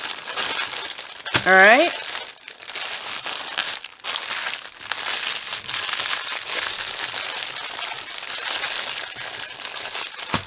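Diamond painting kit packaging crinkles in scattered bursts, near and fairly soft, while someone talks over it.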